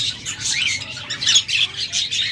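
Pet budgerigars chirping at a bird sale, a dense flock of bright, rapid chirps and warbles close by, continuous and lively.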